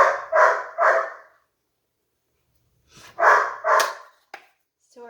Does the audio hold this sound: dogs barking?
yes